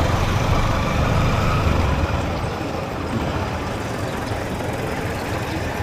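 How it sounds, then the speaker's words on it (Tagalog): A tractor engine rumbles past nearby, a loud, rough low-pitched drone that peaks early and then eases slightly as it moves on, with no talking heard. "traktora oh"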